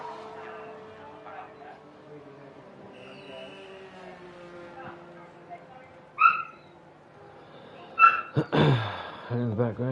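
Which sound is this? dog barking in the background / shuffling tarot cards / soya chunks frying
dog barking in the background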